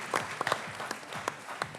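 Scattered claps of applause after a good T20 World Cup cricket performance, a handful of sharp separate hand claps at an uneven rhythm, fairly close and moderately loud, with no crowd swell.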